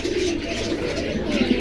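Pigeons at a Jinjira market pigeon stall in Bangladesh coo steadily and close by, with low throaty murmurs repeating across the whole moment and no one talking.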